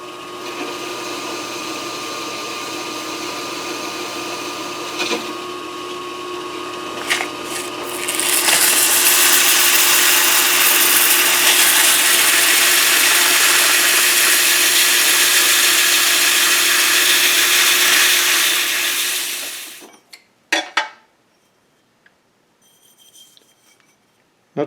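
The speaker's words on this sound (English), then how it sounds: "Now I'll bore a hole in that and use a boring bar" A wood lathe bores a hole with a boring bar, a steady motor whine that turns into a loud broadband cutting rasp for about twelve seconds before stopping abruptly, followed by a few faint clicks.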